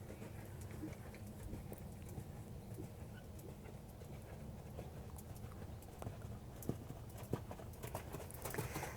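Horse cantering in a dressage arena, hooves striking soft footing in a quiet rhythmic three-beat pattern. The hoofbeats are faint, with occasional louder thuds and light creaking over a low background rumble.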